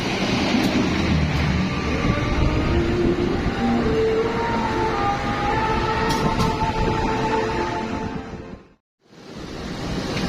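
A passenger train runs on double-track rails in the small hours, a steady loud rumble and rail roar with faint squeals, heard from on board, briefly cutting out near the end.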